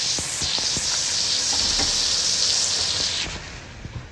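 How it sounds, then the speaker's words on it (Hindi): Washed chicken sizzling in a hot kadhai for chicken shorba, a loud close hiss and crackle of frying with faint stirring knocks, easing off toward the end into quieter clatter. "मैं साथ साथ चिकन धो के जो है ना कढ़ाई में डाल रही हूँ ताकि हमारा चिकन जो है ना साथ साथ अच्छे तरीके से भुन जाए"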